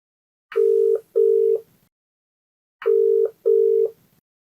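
An outgoing phone call rings back twice, each time as a clean electronic double ring, with a silent gap between the two, clear and with no voices.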